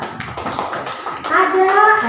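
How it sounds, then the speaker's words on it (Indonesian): Children in a primary school classroom clapping their hands as applause for a classmate, a brief burst of scattered claps with young voices rising over it toward the end. "Tepuk tangan dulu untuk Zalika."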